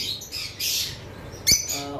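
Several lovebirds of various colour mutations, kept as breeding pairs, chirp and squawk in bursts, with a louder sharp squawk near the end; no one speaks.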